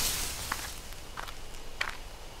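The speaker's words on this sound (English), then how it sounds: "there are footsteps close by" Footsteps in the bushes in the game Death Mark, three soft separate steps crunching over a low dark ambient drone, faint and spaced about a second apart.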